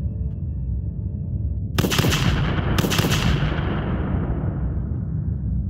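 Gunfire in a Mass Effect fan film battle: two loud, dense bursts of shots cut in over a low rumbling background and decay into a long fading roar.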